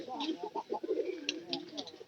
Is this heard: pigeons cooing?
yes